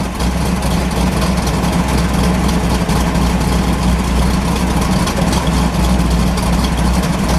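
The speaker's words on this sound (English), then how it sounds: "Listen to that idle for a second." A 1970 Chevy Yenko Deuce Nova with a 350 LT1 V8 idles close by, a loud, steady low rumble with a dense, even pulse and no speech over it.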